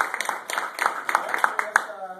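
Scattered clapping from a small audience at a goal-achieving seminar, a few distinct hand claps in an uneven rhythm with voices mixed in.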